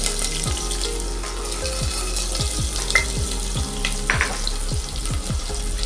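Chopped onion frying in a pressure cooker over cumin, with a constant close sizzle and a low hum beneath it, plus a few light clinks and no talking.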